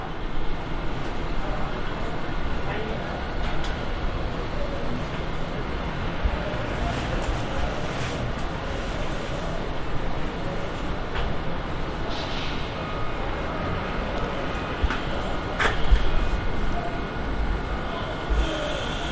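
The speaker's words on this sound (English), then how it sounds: "A train is approaching." A MARC Penn Line commuter train pulls into a station platform, a steady, loud rumbling roar that holds for the whole stretch and swells slightly near the end.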